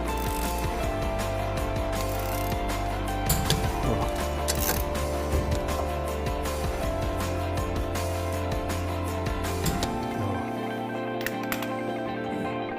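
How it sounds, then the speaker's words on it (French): A torque wrench ratchets and clicks as it tightens the wheel bolts on a classic Mini in a workshop, with repeated mechanical clicks over a steady low machine hum and no talking. "les boulons de roue doivent aussi être toujours serrés sur le couple"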